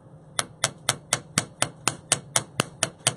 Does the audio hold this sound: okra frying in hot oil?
no